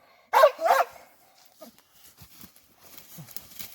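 An American Bully working dog gives two loud, close barks during coon hunting training outdoors, followed by quieter scuffling and faint movement sounds.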